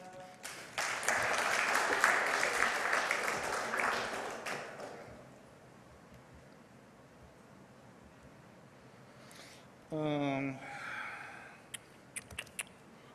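Audience applause at a vintage computer festival demonstration, a burst of clapping for about four seconds that fades out, followed by quiet room noise and a short electronic tone.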